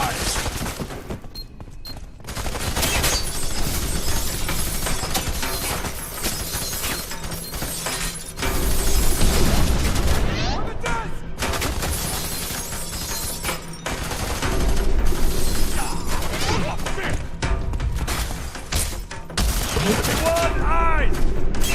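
Suppressing gunfire in the video game F.E.A.R. 3: dense, sustained bursts of automatic weapon fire with sharp shattering impacts, loud and nearly continuous, with shouted voices mixed in among the shooting.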